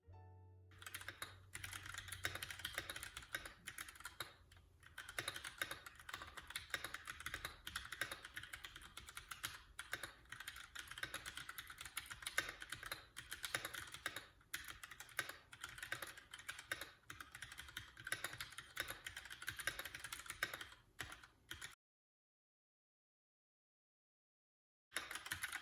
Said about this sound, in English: Okay, so now let's do a typing test,